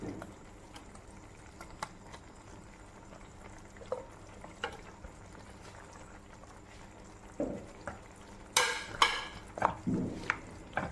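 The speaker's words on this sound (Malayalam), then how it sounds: "ഇത് നല്ലോണം ഒന്ന് തിളച്ച് വരട്ടെ" A pot of curry with chopped dates, green chillies, jaggery and tamarind bubbles softly and steadily in a home kitchen, with a few sharp utensil clinks and pan knocks near the end.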